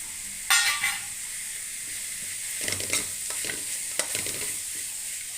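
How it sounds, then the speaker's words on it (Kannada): Raw mango frying in a pan for mango chitranna gives a steady, close sizzle, with sharp stirring scrapes near the start, in the middle and toward the end. "ಮಾವಿನಕಾಯಿ ಹಸಿ ವಾಸನೆ ಹೋಗೋ ತನಕ ಫ್ರೈ ಮಾಡ್ಕೊಳ್ಳೋಣ"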